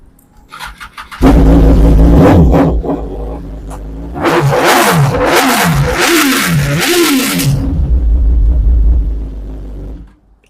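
A sport motorcycle engine, a 2021 Kawasaki ZX-10R, revs hard through repeated rising and falling surges, loud and close, settling into a steady idle before cutting off.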